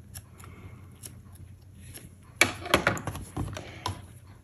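Scissors snip the loose thread tails off a fabric-wrapped rope bowl, giving a few close, crisp clicks and rustles in a quick cluster near the end, with soft handling sounds before.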